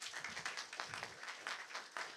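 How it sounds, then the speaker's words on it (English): Applause from students gathered at a school, a steady patter of many hands clapping at moderate distance, fairly quiet and continuous, with no talking. "I think you deserve a round of applause."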